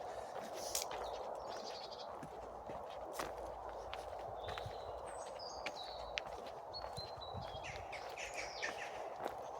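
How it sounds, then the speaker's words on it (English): Outdoors on a cold March day, birds including jackdaws give scattered short calls at a moderate distance over a faint steady background, with soft footsteps or rustling nearby. "there are still some birds here, but there aren't crows"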